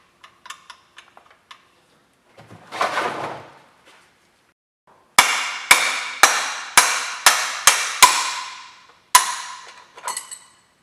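A tool drives out a Porsche 911 trailing arm bushing with a series of sharp metallic hammer blows, about seven evenly spaced strikes after lighter taps and a brief scraping rustle, ringing loud and close.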